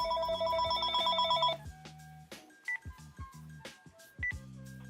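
A phone call is placed: a quick run of touch-tone dialing beeps, then a few separated ringback tones, all fairly quiet with no talking.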